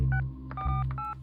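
Telephone keypad tones as a number is dialed on a phone in a crime drama, a few short beeps in quick succession over a low steady background hum.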